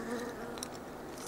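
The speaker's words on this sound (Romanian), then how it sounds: "Albina o și vedem exact cum lucrează." Honeybees working at a hive hum in a steady, close, continuous buzz with no voices, a few individual wingbeats rising briefly above the drone.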